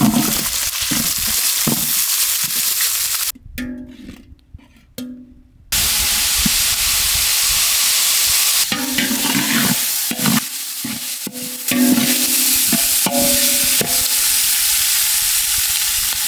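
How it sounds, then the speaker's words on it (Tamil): Chopped onions sizzle steadily in hot oil for beef tail soup, with a constant bright hiss and occasional stirring scrapes, briefly quieting for a couple of seconds before resuming. "நறுக்கி வச்சு வெங்காயத்தை அப்படியே உள்ள இறக்கிட வேண்டியான்."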